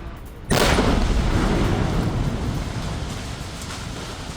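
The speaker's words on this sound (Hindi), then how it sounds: "कैसे इसका घर उड़ाया गया विस्फोट करके, यह आप देख पा रहे हैं।" A blast from demolishing a militant's house lands as one sudden loud boom, then a dense rumbling roar that slowly fades, with no voices.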